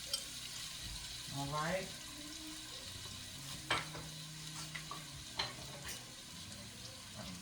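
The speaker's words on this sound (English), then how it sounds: "So I'm going to go ahead and put my onions in here." Onions sizzle in a pan for marinara sauce, a steady, fairly quiet frying hiss with occasional stirring clicks and someone speaking briefly over it.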